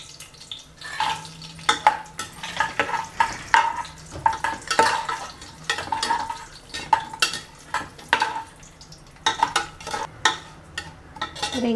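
Cashews fry in a pan for mint biryani with a constant sizzle, while a utensil repeatedly scrapes and clinks against the metal as they are stirred.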